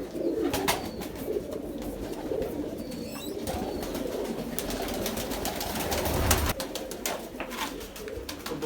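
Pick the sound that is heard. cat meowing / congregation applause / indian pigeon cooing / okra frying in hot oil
indian pigeon cooing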